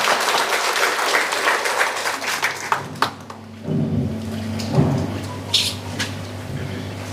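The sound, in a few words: audience applauding at hospital programme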